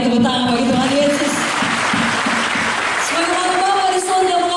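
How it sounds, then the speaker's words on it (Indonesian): Applause from a congregation at a Christian revival meeting in Makassar, sustained and fairly loud, with voices and some singing or talk woven through the clapping. "berikan tepuk tangan bagi Tuhan Yesus"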